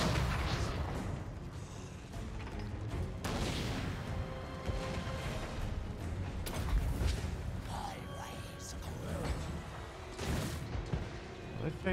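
Cannon fire in the Total War: Warhammer II video game, with repeated booming blasts and rumbling battle noise scattered across a busy mix, heard under someone talking.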